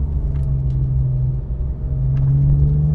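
A Porsche 997 GT3 accelerates on the Grand Sambuc track, its engine a loud, close, steady drone that rises slightly in pitch, with no voices.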